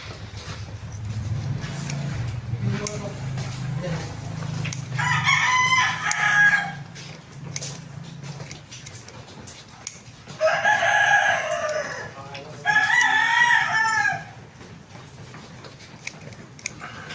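Rooster crows loudly several times in a row, each call a long rising cock-a-doodle-doo, over a low steady hum of background noise with chickens and a hen nearby.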